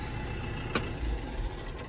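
A tractor engine idles with a steady low rumble nearby, with a single brief click partway through.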